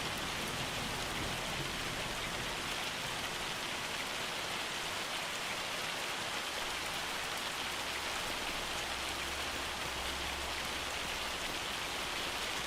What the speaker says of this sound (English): it's going to be kind of hard to hear with this hail coming down.